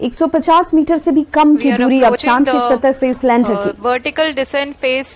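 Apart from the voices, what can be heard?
None of the usual background noises is heard.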